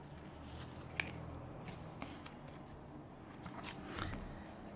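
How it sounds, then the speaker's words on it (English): Scissors cutting a used paper gift bag roughly in half for junk journal cards, a few soft snips spaced about a second apart over quiet rustling, close and faint. "Just cut it roughly in half"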